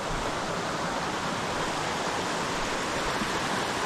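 A mountain creek in the Great Smoky Mountains backcountry roars as a loud, steady wash of rushing water that never lets up.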